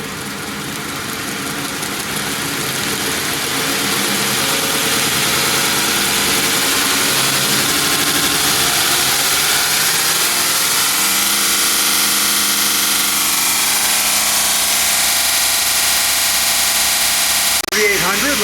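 A generator runs under heavy load while powering a Grizzly 2x42 knife grinder, a steady droning engine hum that rises and settles into a sustained even tone, close and loud, with a brief knock near the end.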